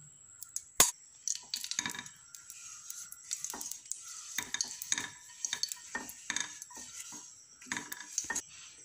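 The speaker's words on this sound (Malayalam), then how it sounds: "ചൂടായ പാനിലേക്ക് ഗീ ഒഴിച്ചു കൊടുക്കാം." Ghee heats in a hot pan for a banana cake. Sharp metal clinks of utensils and pan knocks sound close over a soft, intermittent sizzle.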